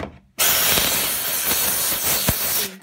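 A Vapodil dry steam cleaner blasts a loud, steady hiss while cleaning dust out of a tumble dryer. The hiss starts abruptly and continues close and unbroken for a few seconds, with no talking.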